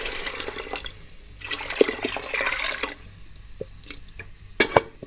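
Water pours into a pot of lentils for Kashmiri daal in a home kitchen, a close splashing gush in two surges with drips and clinks of the pot afterward, no talk.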